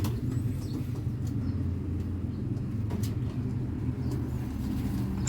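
Young racing pigeons coo softly in a loft, low murmuring calls blending into a continuous rumbling drone with a few faint clicks and taps, and no talking.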